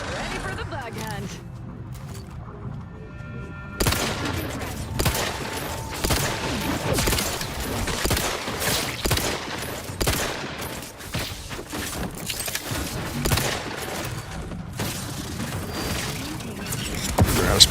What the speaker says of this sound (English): We're spamming grenades.